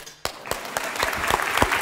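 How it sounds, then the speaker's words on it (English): A lecture audience breaks into applause, dense overlapping claps that start sharply and keep going at a fairly loud, steady level. "So I'd like to propose we clap."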